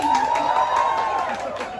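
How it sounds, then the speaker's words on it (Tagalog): A crowd at a Valentine's show on a sky deck in Intramuros claps and cheers loudly and close by, with shouts and whoops rising over dense applause in one sustained burst. "pumalakpak, may kasamang hiyawan"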